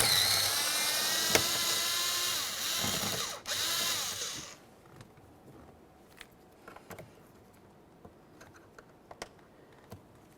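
A power tool whirs loudly and steadily for about four seconds, briefly dipping midway, while backing out 7mm bolts behind a door panel on a 2001-2005 Ford Explorer Sport Trac; afterward come faint scattered clicks and taps.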